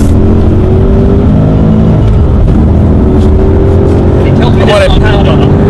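Rally car pulling away hard at the start of a Targa NZ stage, a loud, close in-car engine roar climbing through the revs with gear changes and constant road and wind noise.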